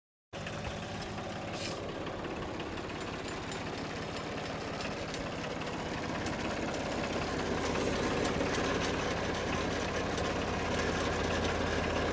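A heavy tractor engine with a middle buster plow attached idles steadily and close by, a continuous low rumble with a slight knocking rhythm, unbroken throughout.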